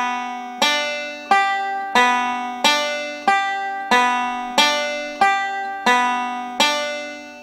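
Banjo played in a forward roll picking pattern, with the thumb on the fifth string: bright plucked notes in a steady repeating rhythm, each sharp attack decaying before the next, clear and close with no talk.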